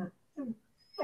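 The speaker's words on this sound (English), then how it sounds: "my dog makes me absolutely crazy." A dog whimpers indoors in three short, soft whines close by, each rising and fading, with brief silence between them.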